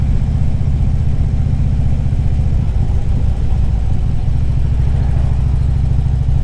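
A Harley-Davidson Ultra Classic motorcycle underway, its engine a loud, steady low rumble with a throbbing pulse that holds from start to finish, no speech over it.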